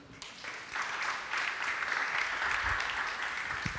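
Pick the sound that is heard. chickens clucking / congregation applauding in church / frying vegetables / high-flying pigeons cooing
congregation applauding in church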